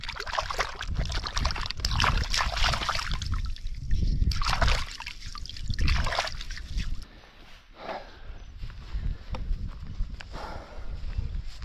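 A large crab is washed in water outdoors, with continuous splashing and sloshing as it is rinsed, loud and close, easing to lighter trickling and dripping toward the end.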